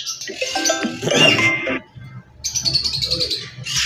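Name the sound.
green ringneck parakeets chirping at a bird market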